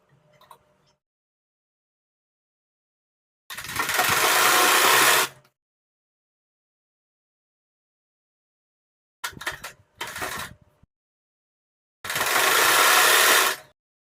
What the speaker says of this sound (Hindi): बैक नेक की पट्टी को फ्रंट नेक की पट्टी के ऊपर ओवरलैप करते हुए रखेंगे और शोल्डर पर सिलाई लगा लेंगे